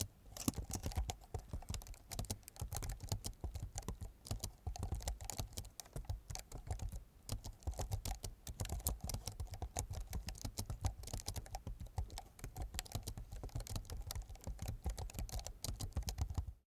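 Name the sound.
typing on a computer keyboard while writing Solidity code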